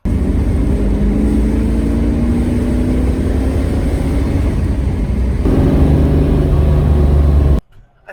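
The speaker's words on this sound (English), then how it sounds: "These things just open up and breathe, and then they start making power." A 1970 Ford Mustang Boss 302 V8 revs loud and close, its note climbing steadily, jumping up once more near the end, then cutting off abruptly into near silence.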